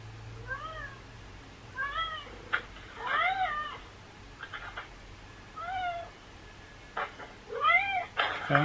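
A cat meows repeatedly in short, rising and falling calls, sometimes in quick pairs, close by and fairly clear, with occasional light knocks between calls.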